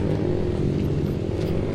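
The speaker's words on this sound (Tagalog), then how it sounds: "Ang ingay-ingay ng tambutso." Loud motorcycle exhaust rumbling steadily up close, a deep throaty drone with a rough, clattering edge that holds for the whole stretch.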